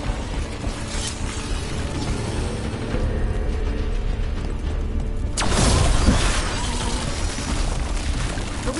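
Creaking, ratcheting wooden ballista mechanism being worked in Dragon Age The Veilguard, a steady grinding clatter with a louder burst of cranking midway, under a dense game soundscape.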